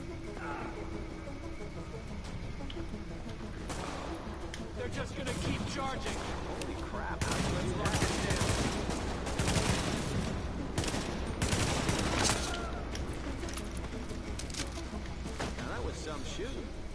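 A heavy firefight in The Division: rapid bursts of automatic gunfire and shots layered together, building louder toward the middle and staying dense throughout, with voices talking over the shooting.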